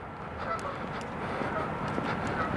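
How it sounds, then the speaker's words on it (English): A bunch of geese honk along a cold river during a dog walk, their calls a dense continuous chatter of overlapping honks heard from some distance over steady outdoor noise. "we've got a bunch of geese up here too"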